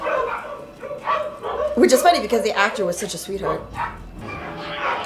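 Dogs bark and yip in the background while people talk loudly over them, the barking mixed in and partly masked by the conversation.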